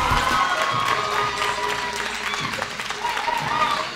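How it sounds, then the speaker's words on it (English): An audience at a televised school debate final applauds and cheers the winners, a steady wash of clapping and crowd noise with voices mixed in throughout. "Of applause for the winners"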